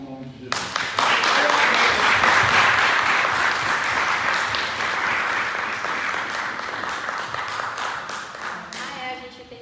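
A church congregation at a Bible study class breaks into sustained applause, rising quickly and holding loud and dense for several seconds before thinning out at the end.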